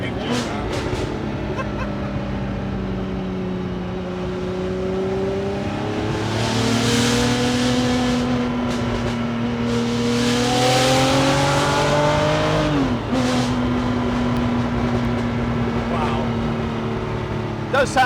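A Ferrari F50 fitted with a Capristo exhaust holds a loud, tonal, mechanical engine note that rises and falls through several revs close by, with voices talking over it.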